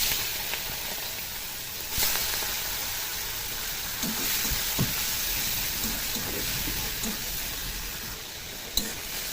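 Prawns fry in hot oil with potatoes, black cumin, turmeric and salt, giving a steady, even sizzle and hiss throughout, with a few soft pops and clicks near the end.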